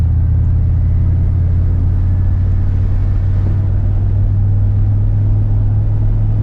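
A budget turbocharged truck drives along with a steady low engine rumble and road noise heard from inside the cab, loud and continuous, with faint body rattles mixed into the drone and no talking.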